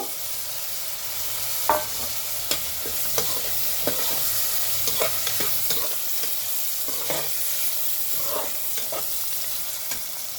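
Green chillies and curry leaves fry in hot oil in a pan, giving a soft, steady sizzle broken by scattered crackles and light stirring clicks, with no talk.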